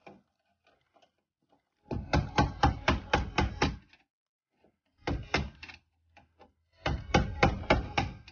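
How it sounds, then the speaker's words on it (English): Hammer tapping a flat screwdriver against its edge to tighten a fitting during a Tesla wall charger installation: three bursts of rapid, loud, close metallic-wooden blows, each a run of about six to eight strikes. "having a flatter screwdriver on the edge, and hammer it a little bit in order to make sure that it's tight enough"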